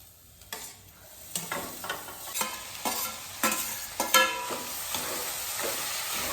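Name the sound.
boiled mutton keema added to pan and stirred, sizzling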